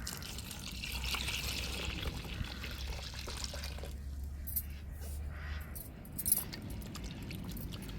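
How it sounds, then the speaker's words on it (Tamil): Dissolved tamarind water is poured into a fish curry pot, a faint liquid trickle and splash heard up close in a quiet kitchen with a few small clinks. "இப்போ கரைச்சி வச்சுருக்கிற புளியை சேர்த்துக்கிடுவோம்"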